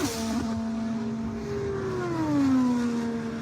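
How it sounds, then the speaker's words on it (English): IndyCar engine during Indianapolis 500 qualifying, a steady high drone that sweeps downward in pitch as the car passes and fades, with a small pop near the start. "A little pop you hear when they downshift the car."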